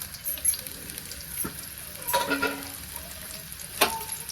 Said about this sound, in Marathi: कांदा आपल्याला छान असा लाल होऊ द्यायचा तर कांदा आपला चांगला लाल झालेला आहे